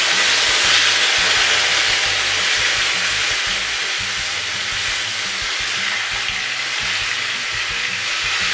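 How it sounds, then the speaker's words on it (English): Chicken breasts sizzle in a hot pan, a steady loud hiss of frying with faint crackles underneath, continuous and close throughout. "You hear that sizzle?"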